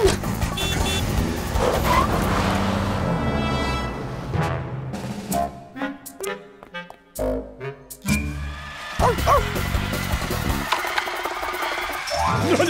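A cartoon car revving and driving off in pursuit, with engine and mechanical noises surging and sputtering in uneven bursts, loud and close, mixed with clattering effects throughout.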